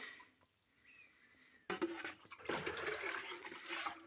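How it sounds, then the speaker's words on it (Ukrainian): Liquid humate solution is poured into a container outdoors at a strawberry planting site, a soft splashing gush starting partway through after a quiet stretch, fairly faint and steady. "Так, вливаємо гумат сюди."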